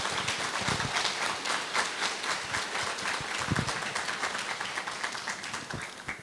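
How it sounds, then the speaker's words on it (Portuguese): Audience applause at an award ceremony marking an institute's anniversary, steady dense clapping from a hall crowd held at an even level for several seconds. "Eu gostaria que nós dessemos um aplauso a todos os trabalhos escritos."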